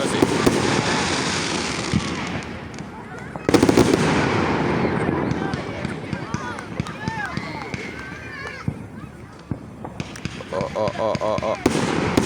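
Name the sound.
4th of July fireworks exploding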